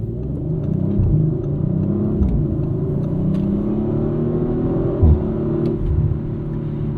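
A 2023 Audi RS5 Competition with a twin-turbo V6, driving in dynamic mode on a morning commute, drones with a low rumbling engine note that climbs and dips through gear changes, with a sharp shift near the end.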